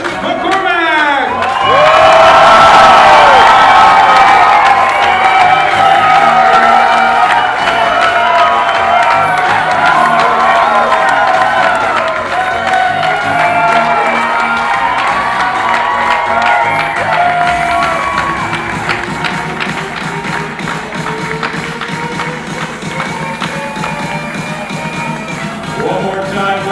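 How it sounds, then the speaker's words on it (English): Wedding reception guests cheer, whoop and clap for the newly married couple's entrance into the room, a loud, dense crowd roar with shouts that stays strong throughout, easing slightly toward the end. "One more time, let's give Fiona and Phelan a big round of applause."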